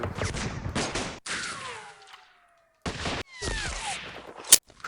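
Bursts of rapid gunfire crackle in a World War II strategy game, several volleys separated by pauses, with whistling shell sounds and a sharp final crack.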